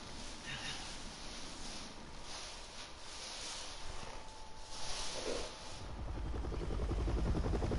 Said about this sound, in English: Chopper over here!